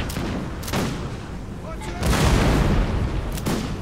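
In the Napoleon Total War game, cannon fire and volleys of musketry crack and boom in loud, repeated bursts across a battlefield, close and overlapping.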